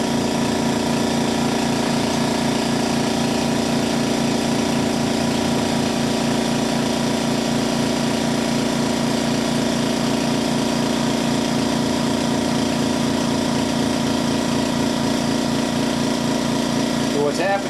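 A Windy U Master 898 airbrush spits and sputters while spraying relatively thick black paint, a steady close hiss broken by an irregular pulsing, running continuously throughout.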